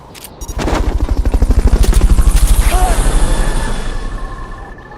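A loud helicopter rotor in Metal Gear Solid: Peace Walker HD on Xbox thumps in a steady rapid rhythm, swelling and then fading, with a few sharp bursts and game-like effects at the start.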